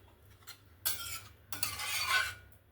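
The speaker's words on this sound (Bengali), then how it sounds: "জলটা দিয়ে ভালো করে নাড়াচাড়া করে নিয়েছি" Spoon stirring pointed gourd in yogurt curry after a splash of water, two soft scraping sweeps against the pan with faint clinks, close and fairly quiet.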